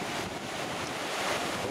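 A small river flows past with a steady, broad rushing wash, continuous and moderately faint, blended with outdoor wind.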